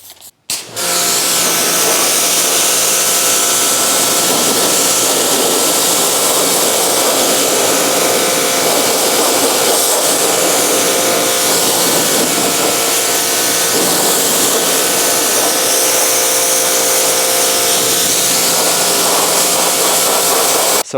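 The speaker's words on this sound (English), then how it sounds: "I need this pressure washer, please." A pressure washer sprays car parts for an Evo 8 restoration, with a loud, close, steady hissing roar that holds without pause for about twenty seconds after a brief start.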